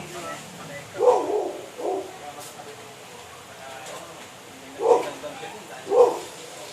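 Dogs bark in short separate bursts, two early and two later, heard at a moderate distance over quiet room noise.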